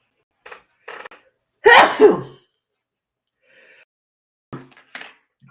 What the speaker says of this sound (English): having these sneezing fits.